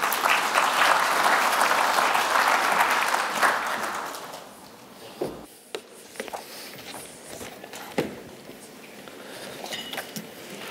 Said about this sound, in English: A round of applause for Chris Gabriel